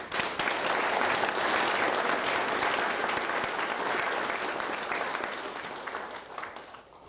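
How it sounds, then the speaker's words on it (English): Audience applause at a museum learning center grand opening and ribbon cutting ceremony, a dense, sustained wash of many hands clapping that holds steady for several seconds before tapering slightly at the end. "I'd love for you all to give them a big round of applause, please."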